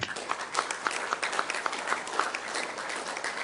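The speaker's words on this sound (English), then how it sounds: "how about a round of applause for the great workforce of TACOM?" Audience applause for the TACOM workforce at a U.S. Army Tank-automotive and Armaments Command change of command ceremony, a steady wash of many hands clapping with distinct sharp claps standing out, sustained throughout at moderate loudness.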